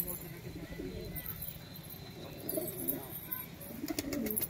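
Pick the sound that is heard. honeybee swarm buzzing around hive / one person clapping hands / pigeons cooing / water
pigeons cooing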